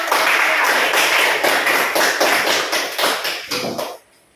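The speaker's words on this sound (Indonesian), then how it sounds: "berikan tepuk tangan dulu untuk" A classroom of students claps together in a brisk, loud round, the claps falling in a rough rhythmic pulse for about four seconds before stopping abruptly.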